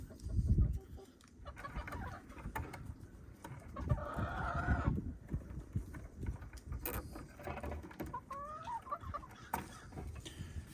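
Chickens cluck and squawk repeatedly near the microphone, with a rooster-like call rising briefly, amid rustling farmyard background noise.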